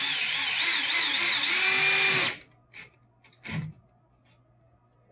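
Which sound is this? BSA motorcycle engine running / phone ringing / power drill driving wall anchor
power drill driving wall anchor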